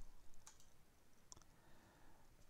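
A couple of faint, sharp mouse clicks on slot car lap-timer software, two isolated ticks over quiet room hiss.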